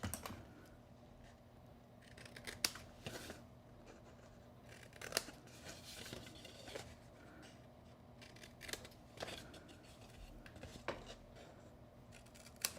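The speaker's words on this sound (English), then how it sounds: "we're going to do kind of a deeper miter cut" Paper being cut with a blade for a triangle gift box, a series of small crisp snips and clicks in irregular rhythm over a quiet background, close and fairly faint.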